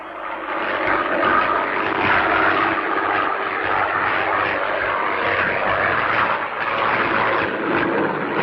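Aircraft engine roaring at take-off in an animated Tintin scene, a loud, steady, broadband drone that holds for the whole stretch without a break.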